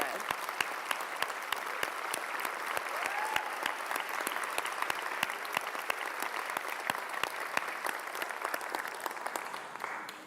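Convocation crowd clapping for graduates' parents, a loud, steady wash of many hands with crisp claps throughout, sustained evenly for the whole stretch before tapering at the very end.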